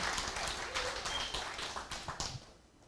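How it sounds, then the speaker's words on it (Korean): An audience at a Korean motivational business talk claps together in a brisk burst of many hands, loud at first and then thinning into a few scattered claps before fading out near the end. "이 명절에 박수 한번 보내주세요."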